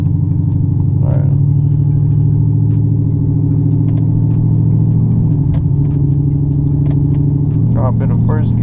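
A tuned car's engine drones loud and close during a 30 mph roll pull, a steady rising rumble with a shift midway, heard from inside the cabin with a voice over it.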